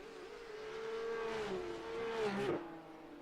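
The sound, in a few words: Porsche Cup race cars on track, from a racing video game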